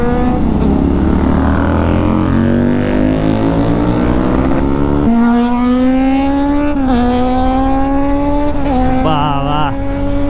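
Kawasaki Z900 motorcycle ridden on a road, its engine note rising and falling through steady revving, with wind noise and a voice talking over the ride.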